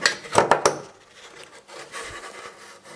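A metal panel being refitted in the trunk of a 2006 Mercedes W203 C200 CDI, with a few quick close knocks and scrapes at the start followed by faint rubbing and shuffling.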